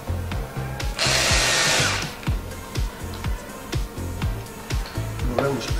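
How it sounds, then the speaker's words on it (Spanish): A power drill driving a screw into wood while fitting decorative molding: one loud, close whirring burst of about a second, followed by a series of regular dull knocks and light handling sounds. "Ponemos el tornillo."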